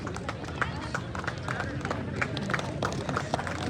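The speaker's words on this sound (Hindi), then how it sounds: "जोरदार तालियों के साथ।" An audience applauds at the closing ceremony of the XXI Upper Zone Football Tournament in Pakam: steady, dense clapping with scattered sharper claps, mixed with crowd voices and chatter throughout.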